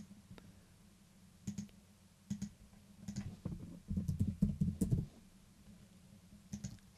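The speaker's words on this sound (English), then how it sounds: "when I click submit it basically works itself in a bit of a loop" Computer mouse and keys clicking in an office setting, scattered soft clicks that bunch into a fast flurry in the middle, then a few more isolated taps, no voices.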